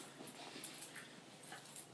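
A short-haired puppy being brushed lets out several soft, high whimpers and yips in quick succession, close and fairly faint.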